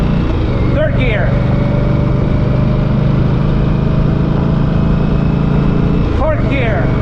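An Indian Scout Bobber motorcycle riding in third gear, its engine a loud, steady drone held throughout at close range, with someone talking over it.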